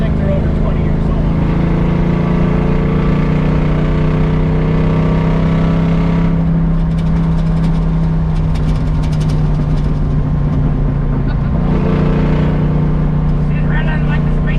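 A 1966 Buick Skylark engine with a muffler on only one bank runs loud and close, a steady deep droning idle that holds throughout, with a voice briefly heard over it.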